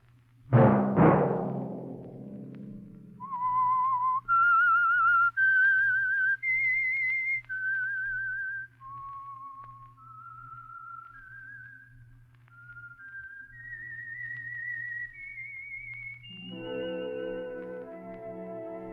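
A clear, rising whistled theme melody from a 1947 radio drama, separate sustained notes moving up in steps before music swells in at the end.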